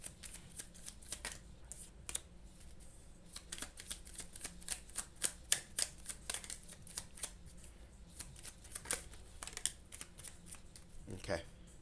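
Tarot cards being handled and drawn for a pick-a-pile reading, with quick papery flicks, riffles and taps in irregular bursts close by, fairly quiet.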